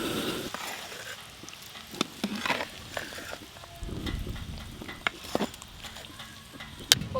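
Spices and ghee stirred in a pan for home-style winter vegetable khichuri, with soft scraping strokes and intermittent clicks of a spoon against metal over a low sizzle, close and fairly quiet.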